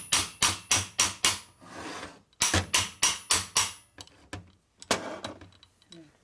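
Metal parts of a 1952 Harley-Davidson panhead four-speed transmission being struck with a hammer, two quick runs of about six sharp blows each, then scattered lighter knocks, close and loud.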